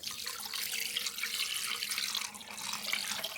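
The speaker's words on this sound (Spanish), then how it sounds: "Vamos a echarle agua" Water runs steadily into a pressure cooker pot, a continuous bright splashing pour like tap water filling a vessel, close and fairly loud with no speech over it.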